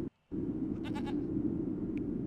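A goat in the video game Ultima 9 Ascension gives a short, wavering bleat over a constant low hum.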